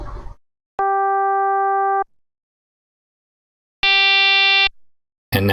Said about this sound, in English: if you remove the amplitude like this, you'll see this is just your regular sine wave